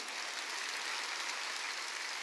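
A church congregation at a Sunday service claps together, dense sustained applause with no voices over it.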